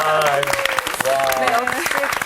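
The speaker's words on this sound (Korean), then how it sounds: "박수 환영합니다." Audience applause rises in a lecture hall setting, the steady clapping running under a speaking voice for a couple of seconds.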